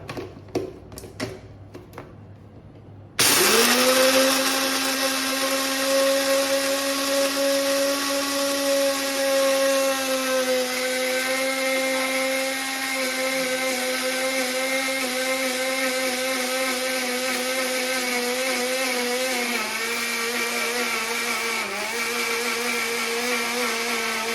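A blender grinds nuts into peanut butter, starting abruptly after a few soft clicks and running as a loud, steady whirring motor drone that shifts slightly in pitch as the paste thickens.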